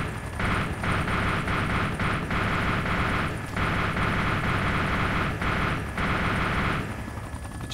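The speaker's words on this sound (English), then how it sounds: "Oh, there's a helicopter!" Helicopter in the video game Arma 2: DayZ Mod, a loud continuous rotor and engine roar with pulsing bursts of gunfire cutting in, no talk over it.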